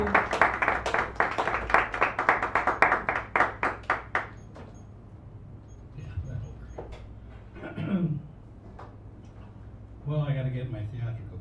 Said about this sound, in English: Give him a nice round of applause as he comes up here bravely